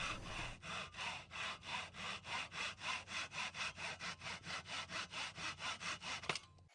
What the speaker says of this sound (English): in order to remove this small extension, a Japanese pull saw was used